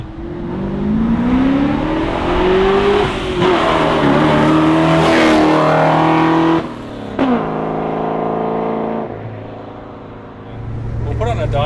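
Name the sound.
HQ Holden 253 engine with Holley Sniper EFI revving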